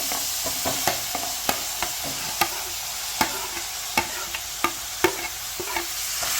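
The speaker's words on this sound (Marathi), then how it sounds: "तूप गरम झाल्यानंतर किसलेलं गाजर त्यामध्ये टाकून घ्यायचंय" Grated carrots fry in hot ghee for gajar halwa, a steady sizzle broken by sharp scraping clicks as a spoon stirs the pan at an uneven rhythm, close and alone with no voices.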